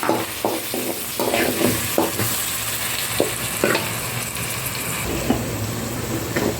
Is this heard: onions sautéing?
yes